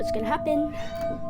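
A cartoon cat gives a short meow, quick and mid-pitched, heard alongside a person speaking.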